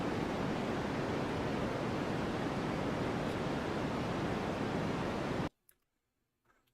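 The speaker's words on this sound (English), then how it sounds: "My white noise file." A steady wash of recorded white noise used for sleep plays loud and unbroken for several seconds, then cuts off abruptly into near silence.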